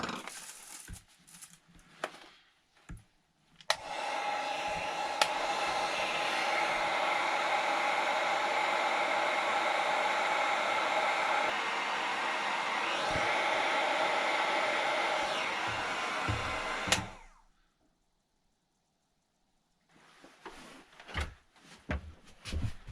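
A heat gun blowing on ATV plastic (Tao Tao 110cc Coolster 3050c) during a repair: a steady, loud fan-like whoosh runs for about thirteen seconds, framed by brief handling clicks and rustles before and after.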